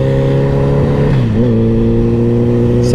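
Motorcycle engine accelerating through the gears, a loud steady harmonic drone whose pitch drops briefly at a gear change and then holds and climbs again, close and continuous.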